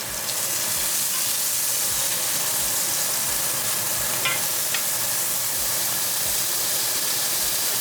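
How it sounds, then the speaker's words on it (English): A wagyu steak sears in a pan with melted butter, making a continuous close sizzle and hiss, with faint regular low thuds in the background. "it's kind of like searing that steak"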